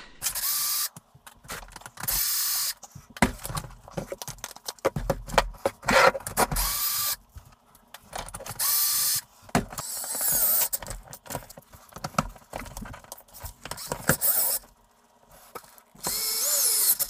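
Bursts of a power driver and ratcheting clicks as Traxxas tires are spun off an HPI Savage Flux RC truck, short whirring runs broken by pauses and light metallic handling noises, close and with no talking.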